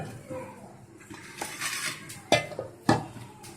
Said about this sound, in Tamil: நான் இப்போ 2 மாவை எடுத்து மிக்ஸ் பண்ணிடுறேன்